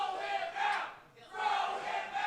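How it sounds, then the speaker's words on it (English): Wrestling arena crowd jeering a wrestler during a battle royal match, a loud mass of voices swelling, dipping briefly near the middle, then surging back. "The crowd's calling him a bum."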